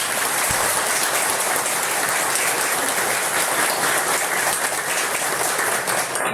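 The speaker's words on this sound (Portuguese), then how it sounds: "Uma salva de palmas, né?" A lecture audience breaks into dense, sustained applause to welcome newcomers, many people clapping together loudly and evenly throughout.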